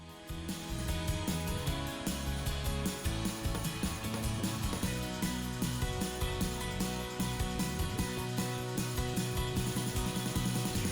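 Steady rhythmic scraping of sandpaper rubbed back and forth over a wooden table top, dense and gritty, repeating in quick strokes close by.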